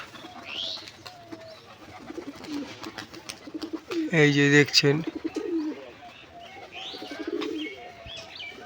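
Giribaz pigeons coo softly with a burst of wing flapping in the middle, while someone talks over the birds.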